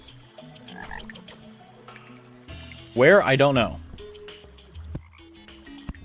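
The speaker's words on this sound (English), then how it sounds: "that sound is very good. Because that means frogs are spawning." Frogs croak in a burst of rising, warbling calls in a video game as they spawn, loud for about a second amid game ambience, with a person talking briefly before and after.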